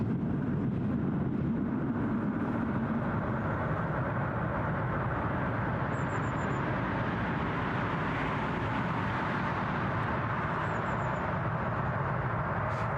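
Near Newcastle International airport, a train passes as a broad, steady rumbling roar, fairly distant and unchanging across the whole stretch, with no voices over it.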